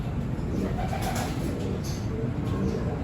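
Racing pigeons coo softly inside a loft, low repeated calls layered over a constant background hiss, with a few faint higher chirps.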